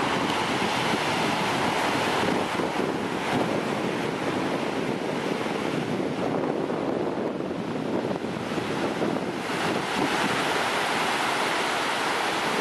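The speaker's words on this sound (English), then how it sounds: "The Atlantic Ocean." Atlantic Ocean surf at Lynn, Massachusetts, on a foggy, chilly morning roars as a dense, continuous wash of breaking waves, loud and steady, with wind rumbling over the microphone and no voices.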